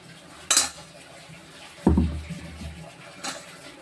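Blended watermelon juice is strained in a kitchen: a sharp clink of a utensil, then a louder clank of a pot or bowl followed by a soft, brief splash of liquid and one more faint clink.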